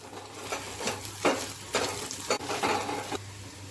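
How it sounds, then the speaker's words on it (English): Moong dal paste sizzles in a pan with oil, a soft, fairly quiet frying hiss broken by several rhythmic scraping stirs of a spatula about every half second. "now I'm adding this moong dal paste"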